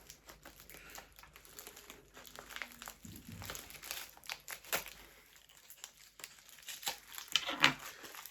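Packaging crinkles and tears as a lost postal parcel is unwrapped, with close, irregular rustling bursts throughout and a sharper rip near the end.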